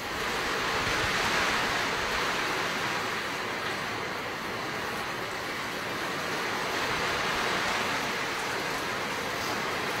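Heavy rain pours without pause during flooding in Naga, a dense, even roar of falling water at a steady loud level from start to finish, with no voices.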